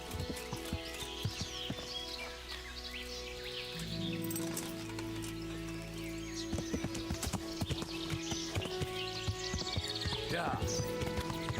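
Hooves clip-clop in a quick, steady rhythm over game music and ambient tones in the video game Kingdom Come: Deliverance, with a horse whinnying briefly near the end.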